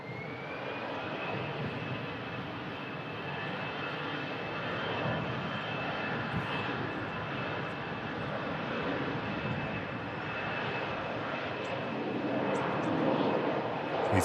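An EasyJet Airbus A320 departing for Lisbon gives a steady, building jet roar with a thin high whine throughout, growing louder toward the end, with a faint voice talking under it.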